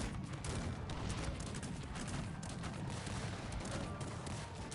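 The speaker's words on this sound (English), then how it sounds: "And have the cannons shoot." Cannons firing in a Cossacks 3 battle, a continuous dense barrage of overlapping booms and rattling shots under the roar of combat, loud throughout with no pauses.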